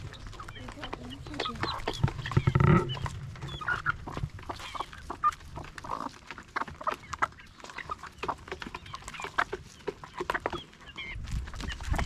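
Backyard chickens clucking and calling around feeding time, a steady scatter of close clucks with voices talking over them throughout.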